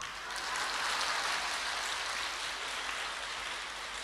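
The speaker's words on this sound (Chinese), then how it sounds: "鼓掌" A seated audience at a Buddhist Dharma assembly in Sydney claps steadily for about four seconds, a dense, even wash of applause without voices.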